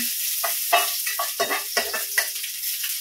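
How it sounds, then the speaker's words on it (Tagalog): Garlic sautéing in a pan for Filipino chicken adobo, a steady oily sizzle broken by several sharp scraping stir strokes, close and fairly loud with no talking. "Kaya gigisain muna natin yung bawang natin."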